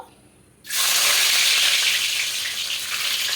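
Chopped garlic hits hot oil for restaurant-style chili chicken: after a brief quiet moment, a sudden loud, bright sizzle bursts up and keeps hissing steadily and close up.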